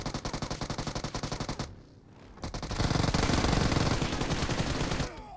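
PUBG Mobile automatic weapon fire crackles in a steady rapid rhythm, pauses briefly, then returns as a heavier, denser volley of shots before cutting off, with no talking.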